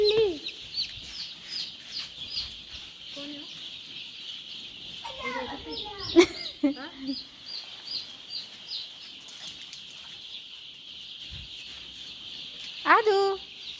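Chickens cluck on and off as small children chase them, their voices chattering throughout, with a few sharper squawks.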